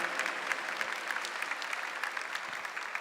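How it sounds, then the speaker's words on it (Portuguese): Church congregation clapping steadily, a continuous moderate patter of many hands with sharp individual claps standing out, heard from within the crowd. "Queria que você aplaudisse quem está aí do seu lado"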